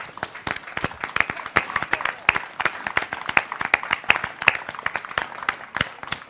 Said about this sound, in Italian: ai quali io vorrei fare un grande applauso